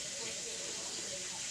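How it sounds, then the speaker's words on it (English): A constant hissing sizzle of chicken pieces frying in hot oil fills the moment evenly without pauses, faint and steady. "I am frying chicken."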